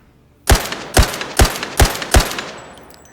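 Five evenly spaced, loud, close single shots from a semi-automatic rifle in the VR shooter Zero Caliber, each a sharp crack with a short decay, fired at a steady rhythm of about two per second before a brief tail.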